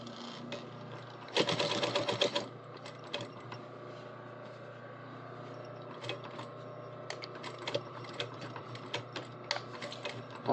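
A sewing machine top-stitching jeans seams: a loud, fast mechanical whir in one sustained burst, then quieter short clicks and brief runs of stitching at close range, with no talk.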